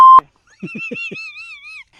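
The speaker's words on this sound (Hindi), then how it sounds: "नेटवर्क का थोड़ा प्रॉब्लम है, फोन कट जा रहा है।" Phone call cutting off amid a network problem: a short sharp click, then a few quick electronic blips and a warbling tone that holds for over a second before stopping.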